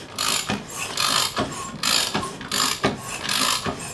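A Suzuki Hayabusa engine is turned over slowly by hand, giving a close, rhythmic mechanical ratcheting and whirring that repeats about twice a second with no talking.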